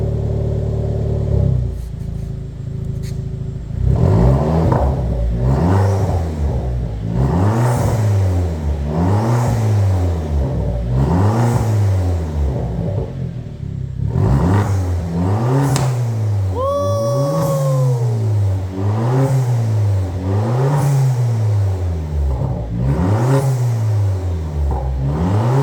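Vauxhall Corsa VXR Nurburgring Edition with a cat-back exhaust system, revved repeatedly while stationary, producing loud rhythmic rises and falls in engine pitch that continue steadily throughout.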